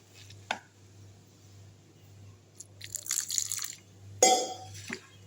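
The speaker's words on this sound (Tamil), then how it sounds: "தேவைப்பட்டால் கொஞ்சமாக தண்ணி ஊற்றிப்போம்." Water splashes and drips into masala bread toast batter in a bowl, with one early drop, then a burst of pouring and a sharp splash later, over a low, steady hum.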